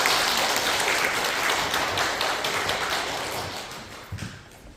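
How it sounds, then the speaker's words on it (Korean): Church congregation applauding during a Sunday service to welcome newly baptized members, a steady wash of many hands clapping that slowly fades over several seconds, with a few louder claps near the end. "따뜻하게 박수로 환영해"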